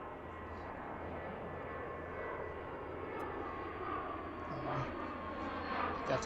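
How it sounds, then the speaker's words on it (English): A small jet takes off at Reagan National Airport, heard from a distance as a steady, broad engine roar that holds level throughout. "A small plane, small jet taking off."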